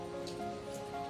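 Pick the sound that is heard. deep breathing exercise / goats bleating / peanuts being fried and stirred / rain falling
rain falling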